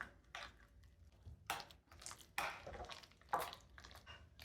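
Garlic powder and onion powder being stirred together in a bowl, a few irregular scraping and clinking strokes of utensil against dish, close and quiet with no talking.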